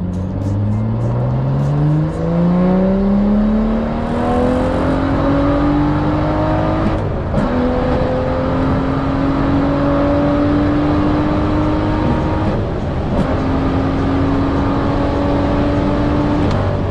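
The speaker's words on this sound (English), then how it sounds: "I'm really liking the OTS Burble setup on this map." BMW F87 M2 with an OTS tune and a reserved burble map pulls hard through the gears, the engine note climbing steadily with brief dips at each upshift, loud and close throughout with no talking.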